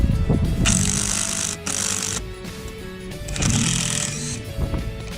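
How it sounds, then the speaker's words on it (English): A cordless impact driver hammers a fastener into thick wood, its rapid ugga-dugga rattle loud and close in two sustained bursts separated by a brief pause. "Hear that ugga-dugga noise? That's the noise I'm talking about."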